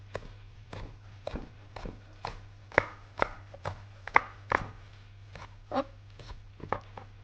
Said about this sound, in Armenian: Հիմա կտրատում եմ կանաչ գծու բղբեղը։